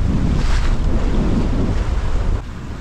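Strong beam-reach wind of about 18 knots roars across the microphone aboard a heeling sailboat making 6.5 knots off New Zealand, with waves and hull wash mixed in; loud, steady buffeting that eases slightly near the end.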